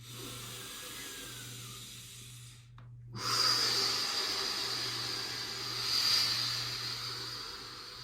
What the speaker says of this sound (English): Doing the deep breathing.